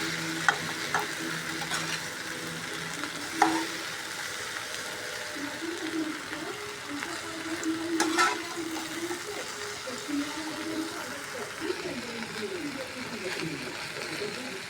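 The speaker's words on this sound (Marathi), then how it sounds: "परत आपण आता भेंडी चाळून देऊ म्हणजे चिकट पण होत नाही" Okra sizzles in a pan as a spoon scrapes and stirs it, a soft steady frying hiss with occasional clinks of the spoon against the metal.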